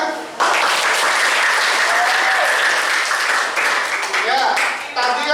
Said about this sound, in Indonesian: bisa tepuk tangan?